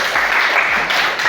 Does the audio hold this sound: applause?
yes